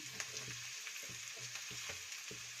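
Tomato frying in hot oil for Karnataka-style churumuri, a steady close sizzle with repeated soft stirring scrapes in the pan throughout, no talking.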